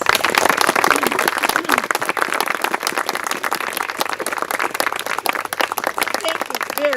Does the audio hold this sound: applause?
yes